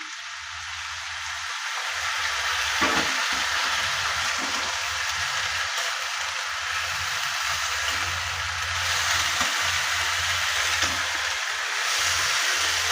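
Snake gourd curry with spices and salt cooking in a pan, a steady broadband sizzle and crackle like rain on a surface running throughout, with low clattering stirring knocks underneath.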